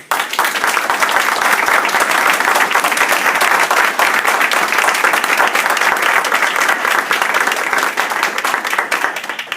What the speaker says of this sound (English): please join me in a well-deserved round of applause